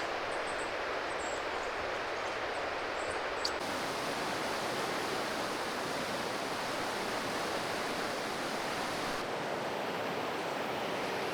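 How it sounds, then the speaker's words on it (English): River water rushes steadily where the Falling Fork joins the Bechler River, a close, even broadband roar with no pauses and no voices. "this is the confluence of the Falling Fork and the Bechler River"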